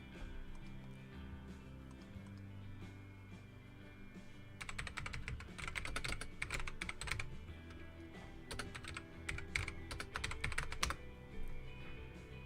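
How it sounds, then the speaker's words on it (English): Typing on a computer keyboard, with quiet scattered keystrokes at first and then dense rapid bursts of clicks in two long runs, close and clear over a faint background hum. "Okay, gonna have to type this in."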